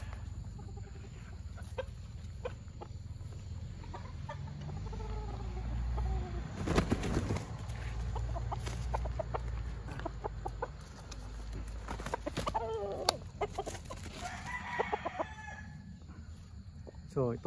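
Fighting gamecocks cluck and call close by during conditioning, with scattered rooster crowing, flapping and handling noises, and a person's voice in the background.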